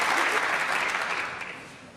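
A snooker crowd at the Welsh Open in Cardiff's Motorpoint Arena gives a short burst of ironic applause, close and steady at first, then thinning out and fading over two seconds.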